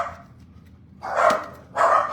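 A dog barking indoors during a sugar glider toy build in a kitchen, two sharp, loud barks about a second apart, close and alone.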